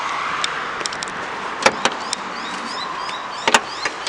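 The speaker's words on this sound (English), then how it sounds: "I'll pop the bonnet and we'll start it up" The bonnet of an ML Mitsubishi Triton ute with a 3.2 4M41 turbo diesel is popped open: two pairs of sharp metallic clunks from the release and latch over a quiet outdoor background.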